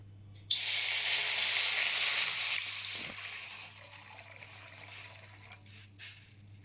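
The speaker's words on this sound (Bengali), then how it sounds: "কড়াইতে জল দিয়ে দেব।" Water poured into a hot wok hisses and sizzles loudly at first, then settles into a fainter bubbling trickle with a low steady hum underneath and no talking.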